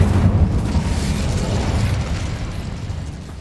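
Incendio fire spell from Hogwarts Legacy on PS5 roaring out as a loud, dense, low rumbling blast of flame. It holds steady for a few seconds and slowly thins, with no voices.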